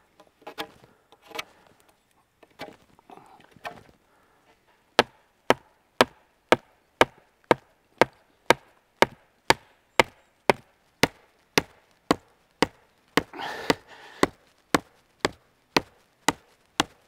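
Sharp wooden knocks ring out as a straight wooden pole is hammered, in a steady, evenly spaced series of about two dozen strikes, after a few softer scattered taps at the start.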